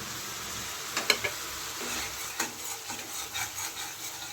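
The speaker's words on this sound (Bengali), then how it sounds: "পেঁয়াজ কলিগুলো দিয়ে দিলাম। এর সাথে একটু কষে নেবো, ভালো করে ভেজে নেব।" Chopped spring onion greens fry with green chillies and yogurt in a pan, a soft sizzle under intermittent scraping stirs and light knocks of a spoon against the pan.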